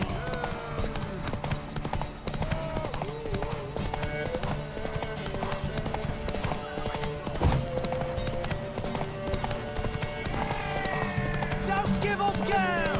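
Horse hooves clip-clopping in The Witcher 3 during a race, a brisk rhythmic gallop running throughout under a layer of game music and tonal effects.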